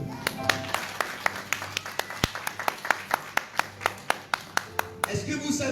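A church congregation claps in a steady run of sharp, evenly spaced handclaps for Jesus, with a low murmur of voices underneath, ending in a brief swell of cheering.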